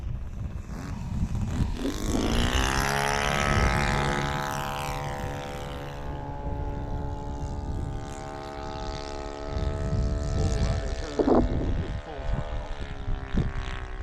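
A quarter-scale RC Piper Cub model airplane's Gemini 160 engine buzzes steadily with a high harmonic whine, shifting pitch as it passes, with people talking over it.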